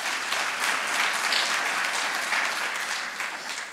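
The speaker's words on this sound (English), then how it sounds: "Another round of applause," Sustained applause from a crowd at a business plan competition final fills the room, many claps blending into a continuous roar that eases slightly at the end.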